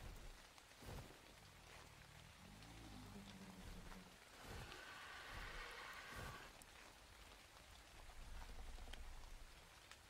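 Steady rain in the game Ark: Survival Evolved on The Island map, a continuous broadband hiss of drops on surfaces with faint low rumbles, running alone without voices.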